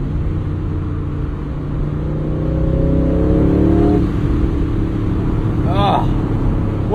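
A 2026 Aston Martin engine revs and climbs steadily toward 7,000 RPM from inside the car, a loud rising drone that peaks and then drops off.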